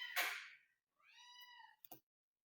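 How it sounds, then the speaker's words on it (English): A female cat named Willow meowing insistently, probably for food, with a sharp noise, one long clear meow, and a short thump near the close, all close by in a quiet room. "She's gonna meow until she gets what she wants."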